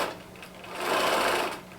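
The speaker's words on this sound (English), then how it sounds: "I'm still just sewing 2 together" A sewing machine stitches two quilt pieces together in a steady, close, continuous whir that swells slightly midway, with no talk.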